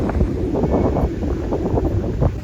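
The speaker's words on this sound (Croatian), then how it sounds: "kako vjetar šiba, čim staniš na plažu" Strong wind on Diani beach, Kenya, buffets and roars across the microphone without pause, a loud, rough rush with no voices heard.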